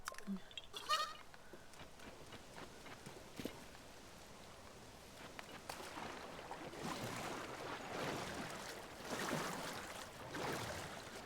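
Goats and sheep in the video game Zelda: Tears of the Kingdom give a few faint, scattered bleats over a soft ambient bed, with occasional light footsteps.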